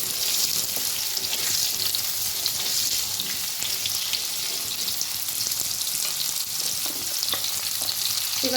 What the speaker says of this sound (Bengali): আলুগুলো হালকা করে ভেজে নিয়েছি। এবার দেবো গাজর টুকরো করা।